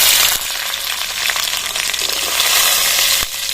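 Garlic hitting a hot pan with mashed potatoes for an egg and potato bharta, giving a loud, steady, close sizzle that holds for several seconds and ends with a short clatter.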